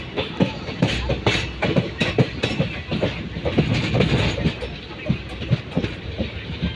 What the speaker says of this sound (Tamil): இங்கே பாருங்கள் எவ்வளோ அழகாக ட்ரெயின் வளைஞ்சு போகுது.